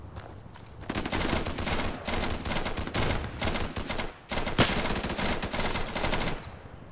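Bursts of automatic gunfire from the video game Insurgency, loud and sustained rapid fire in several long volleys with brief pauses between them, one sharp crack standing out near the end.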